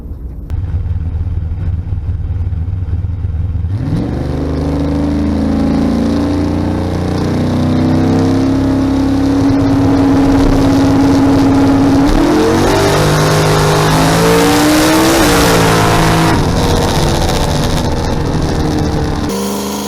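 A boosted drag race car makes a pass, starting abruptly loud and then holding a roaring engine note that climbs through gears as it pulls away, with no talking.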